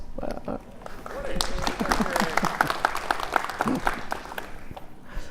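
Applause from a business summit audience, a light smattering that swells into fuller clapping and then tapers off, with a voice speaking over it near the start.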